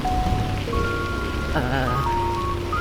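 Heavy rain pours in a dense, steady wash, close and loud, while someone talks over it and tonal whines drift through the background.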